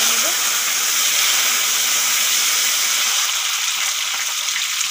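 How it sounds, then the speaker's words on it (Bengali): Washed, cut potatoes frying in oil make a loud, continuous hiss that stays even and close throughout, with no talk over it. "এখন দিয়ে দেবো কেটে ধুয়ে রাখা আলুগুলো ভেজে নেব।"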